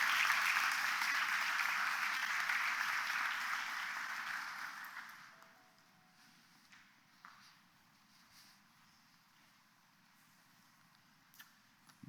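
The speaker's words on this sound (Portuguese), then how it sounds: "Uma salva de palmas para essas irmãs" Applause from a church congregation at a family service, a steady wash of many hands for about five seconds that then fades out abruptly, leaving a quiet room with a few faint stray sounds.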